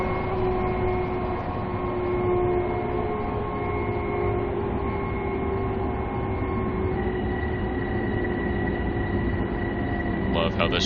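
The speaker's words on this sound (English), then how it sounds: "Love how this train sounds." A commuter train runs on the Harlem Line in Train Sim World 3, giving a steady loud rumble of motor and wheels with sustained tonal whine, a shift in pitch midway and a brief rattle near the end.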